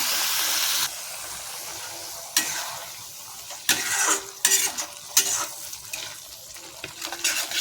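Spice paste for ghugni sizzles in a pan, with a rush of added water at first, then scraping stirring strokes and bursts of frying, close and alone.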